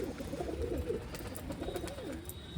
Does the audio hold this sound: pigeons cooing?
yes